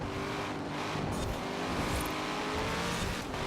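Corvette Z06 racing through a lap in Forza Horizon 4, its engine holding a loud continuous growl with shifting pitch and faint tire noise underneath, heard alone without voices.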